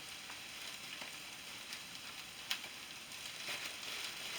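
Roast beef hash browns in a pan with a steady, low, even sizzle and a few faint pops and crackles, heard close and alone without any voices.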